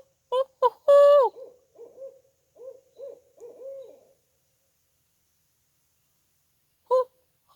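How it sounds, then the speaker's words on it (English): An owl hooting outdoors in a garden, a series of clear, close hoots in an uneven rhythm with gaps of silence, then a couple more after a pause. "we've got an owl right there"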